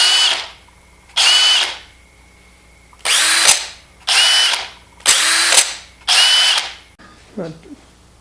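A Porter Cable PCC607 1/2-inch brushless drill driver whirs in six loud bursts of about a second each, spinning up and stopping with short gaps, close by, followed by a brief faint voice.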